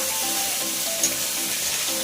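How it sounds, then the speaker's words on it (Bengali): Chicken pieces with garlic sizzling and frying steadily in a pan in a home kitchen, with faint stirring scrapes over a continuous bright hiss. "রসুন চলে গেল, এবার ভালো করে কষানো হচ্ছে"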